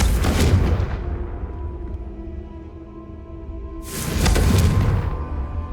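Two Confringo blast spells detonate in Hogwarts Legacy, each a sharp, loud explosive burst with a rumbling tail, a few seconds apart.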